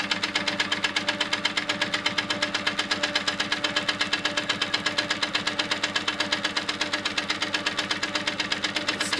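Sewing machine stitching echo quilting lines through layered fabric, a steady rapid mechanical chatter of needle strokes running continuously and close, with no talking.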